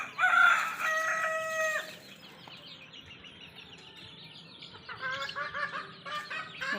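Home-raised native chickens and about 37 month-old chicks outdoors on soil, a rooster crow at the start followed by scattered clucks and high chick peeps, moderately close with no talking.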